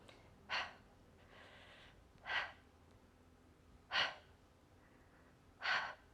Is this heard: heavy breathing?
yes